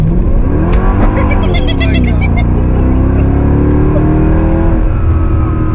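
A Mercedes AMG German hot rod engine roars loud and close, revving up sharply and then holding a deep, steady idle-like drone with no voices.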